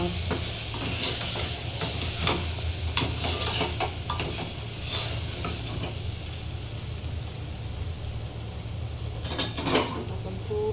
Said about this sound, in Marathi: आता आपण मस्त मिक्स करूया